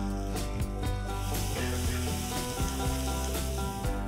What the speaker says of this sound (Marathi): लसणीचा कच्चा वास जाईपर्यंत आपण हे परतून घेऊया